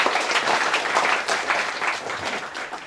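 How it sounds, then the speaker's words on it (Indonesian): An audience at an evening gathering claps in sustained, dense applause that fills the room at a moderate level, with no speech over it. "Jadi sekali lagi tepuk tangan untuk guru kita malam ini,"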